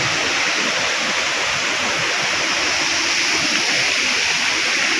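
Kwaibala Falls roars with a constant, loud, broadband rush of falling and flowing clear water close by, steady without a break and with no voices over it.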